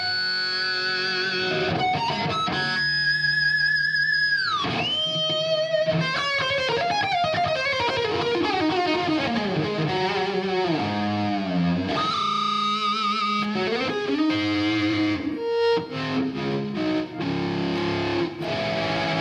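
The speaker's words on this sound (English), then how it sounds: "Then I'll kick in the distortion pedal." An electric guitar plays through a compressor and distortion pedal, giving sustained, heavily driven notes and bends. The sound is loud, close and continuous, with no talking.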